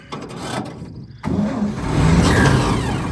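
A stone-cold 1943 Dodge weapons carrier engine cranks, briefly stalls, then catches and roars up to a loud, rough running rumble, close to the listener.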